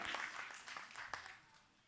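Applause from an audience at an award ceremony for Shubhakeerthi, a dense patter of hand claps that swells and fades over about two seconds, fairly faint and distant.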